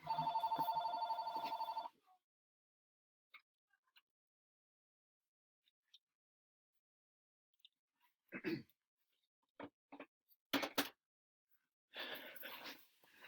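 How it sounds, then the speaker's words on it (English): A mobile phone rings with a loud electronic tone for about two seconds, then goes quiet, followed by scattered small handling noises and brief muffled sounds. "my phone is ringing."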